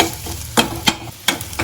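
Chicken biryani base frying and being stirred in a pan: a steady oil sizzle with four or five sharp scraping stir strokes spaced roughly every third of a second, close and moderately loud, no talking.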